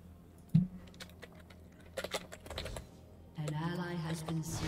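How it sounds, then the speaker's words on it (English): Hard, fast typing on a computer keyboard gives a rapid clatter of close clicks during a League of Legends match, with game sounds and a sustained tone rising over it near the end. "Typing so hard."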